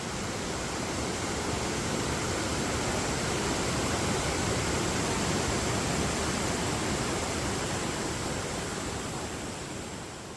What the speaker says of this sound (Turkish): Parkın en yüksek şelalesi olan Büyük Şelale yaklaşık 78 metre yüksekliğe sahip.